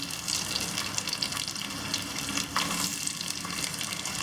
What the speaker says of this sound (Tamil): இதெல்லாம் வெடிச்சதுக்கு அப்புறமா நம்ம சின்ன வெங்காயத்தை ஆட் பண்ணிடலாம்.